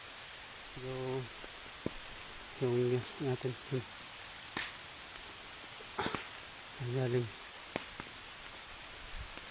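Rain falling outdoors, a steady soft hiss of drops throughout, with a few sharper taps, while voices talk intermittently over it.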